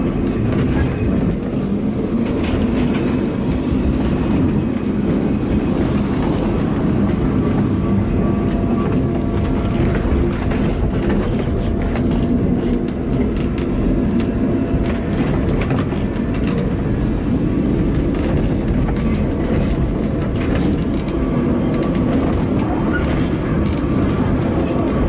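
Lisbon's Tram 28 rolls along its rails with a loud, continuous rumble and rattle, steady metallic clatter and squeal heard close up from aboard for the whole stretch.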